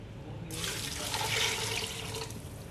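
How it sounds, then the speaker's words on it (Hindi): Water poured into a cooking pot of mutton daal gosht with soaked lentils, a splashing stream that starts abruptly, runs steadily for about two seconds and then trails off, close and fairly loud. "अब हम इसमें शामिल करेंगे पानी"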